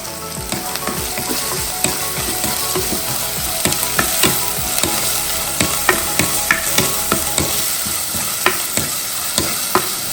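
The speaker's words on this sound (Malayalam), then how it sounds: "ഇഞ്ചി പച്ചമുളക് വെളുത്തുള്ളി ചതച്ചത് ഇട്ട് വഴറ്റി അതിലേക്ക് ചുവന്ന ഉള്ളി ചതച്ചതും കൂടി ഇടുക" Crushed ginger, green chilli, garlic and shallots being sautéed in a pan for Kerala mackerel curry, with a steady loud sizzle of frying and repeated sharp scraping stirs of a spoon against the pan, close up with no talking.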